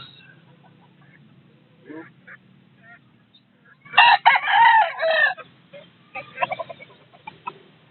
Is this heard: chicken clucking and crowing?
yes